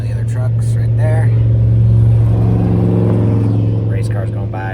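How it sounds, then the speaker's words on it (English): A race car in an off-road desert race from Vegas to Reno roars past nearby, its engine note rising and falling over a few seconds, loud and close, with people talking over it. "Race car's going by."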